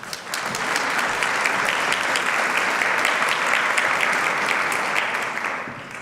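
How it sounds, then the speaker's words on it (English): A conference audience gives a warm round of applause for a speaker, dense sustained clapping from a sizable crowd for about six seconds, loud and even before tapering at the end. "Please join me in giving him a warm round of applause"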